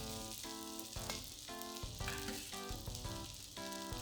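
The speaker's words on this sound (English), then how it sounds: "When your oil is hot, add in the dried shrimps." Dried shrimps stir-fry in hot oil with a steady, close sizzle and crackle. Stirring clatters through it, and no one speaks.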